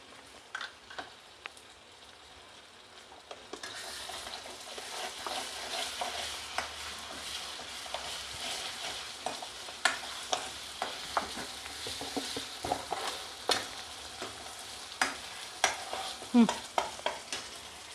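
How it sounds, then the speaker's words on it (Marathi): Garlic paste dropped into a pan of browned onion sizzles softly, with a steady fry hiss building after a few seconds and repeated sharp scraping stir clicks throughout, fairly close and moderate in level, no voices. "एक चमचा मी लसूण पेस्ट टाकत आहे"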